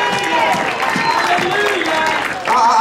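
A church congregation claps in praise during a worship service, a steady wash of hand claps mixed with crowd noise and a voice or two over it, swelling again at the end.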